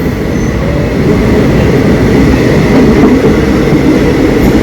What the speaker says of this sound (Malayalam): അങ്ങാടിന്ന് വണ്ടി വിട്ടു